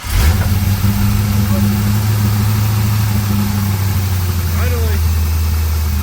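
A C5 Corvette's LS V8 with long-tube headers fires up and settles into a loud, steady low idle with a deep rumbling drone throughout, a brief voice breaking in near the end.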